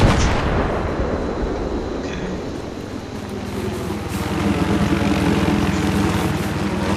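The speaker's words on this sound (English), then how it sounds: "Okay, that chopper's back." A military helicopter in the video game Battlefield 3 roars close and loud with steady rotor and engine noise, mixed with dull battlefield rumble, and no one speaks.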